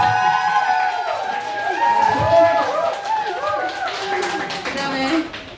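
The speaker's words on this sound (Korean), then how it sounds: "박수 한번 주세요" An audience at a karaoke contest marking a bar's first anniversary gives scattered claps under a host's continuous voice and singing, with the clapping loosest and clearest toward the end.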